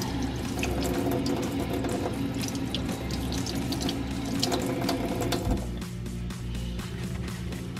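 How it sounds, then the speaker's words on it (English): Water runs steadily from a tap as a small craft ornament is rinsed under it, a close, continuous splashing flow that changes pitch slightly near the end as the stream hits the ornament differently. "Rinsing it off again."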